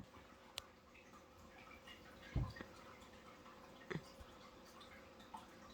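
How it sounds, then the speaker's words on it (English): Rain dripping from redwood trees outdoors: a few sparse, faint drips and taps scattered over a quiet, soft background hiss. "They're just dripping with rain out there."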